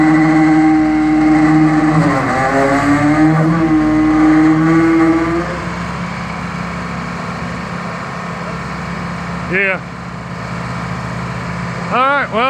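The engine of a Mi-Jack 500B machine runs steadily and loudly, rising and falling in pitch as it drives forward and in reverse, with a couple of short squeals near the end.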